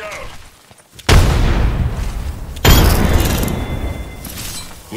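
A frag grenade goes off in Apex Legends: two loud, close blasts about a second and a half apart, each followed by a rumbling decay.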